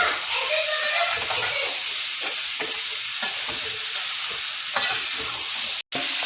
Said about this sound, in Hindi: इसको थोड़ा सा चलाएंगे फिर ढक देंगे